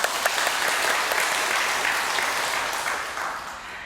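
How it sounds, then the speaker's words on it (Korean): A church congregation claps together during an afternoon worship service, a dense, steady applause that stays loud and slowly fades toward the end. "우리 음령부 수고해달라고 박수 한번"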